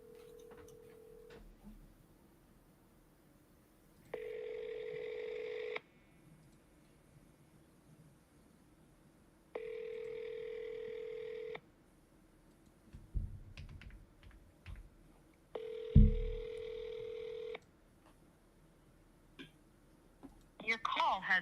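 A telephone call ringing on an outgoing call to a house seller: three evenly spaced electronic ring tones, each lasting about a second and a half with long quiet gaps, plus a few faint clicks and handling noises in between.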